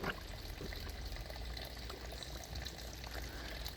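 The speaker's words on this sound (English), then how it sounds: "the water will come to the top, and all the dirty water now, you can hear there, it's now cleaning out all the stone material" Water pours and churns as it flushes dirt out of the stone material in a pond filter, a steady rushing, trickling wash at close range with no talking.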